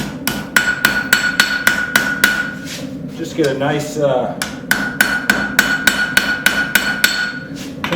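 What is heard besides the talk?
rounding hammer forging railroad spike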